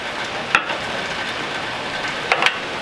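Avocado oil sizzles steadily in a cast iron skillet, a close, even hiss with a couple of brief crackling spikes and no talking.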